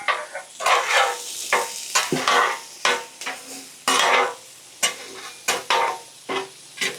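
Sausages sizzle on a hot griddle in bursts of loud, close crackling and hissing, broken by short pauses and scraping clatter, with no voices.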